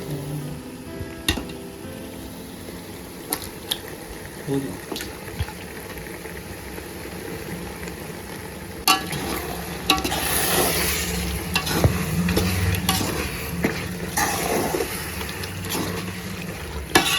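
Chicken frying in a pot of onions for biryani makes a continuous sizzle and bubbling, broken by repeated clinks and scrapes of stirring that grow busier partway through.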